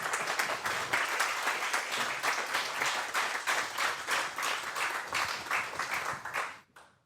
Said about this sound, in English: So please give him a welcoming applause for today's session.